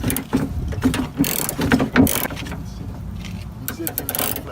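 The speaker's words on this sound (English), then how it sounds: "So you get your tin ratchet and you stick it in there, and you just unscrew." A ratchet clicks in quick bursts while unscrewing a Toyota Camry door handle screw, close by, amid mechanical rattles as someone talks.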